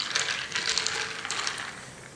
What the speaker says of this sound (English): I'm just going to mix it with the knife